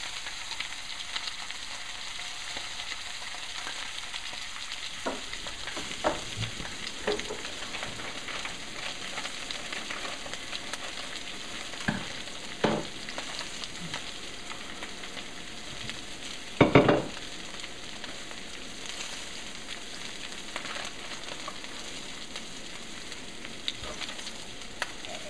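Thick ono fish sears in a pan while turned up on its side, giving a faint, steady sizzle with occasional soft clicks and one sharper clink midway, no voices.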